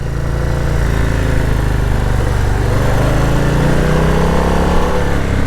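Steady, loud engine drone of a 2022 Harley-Davidson Low Rider S motorcycle, running continuously close by with a low rumbling tone and slight rise in pitch, no voices.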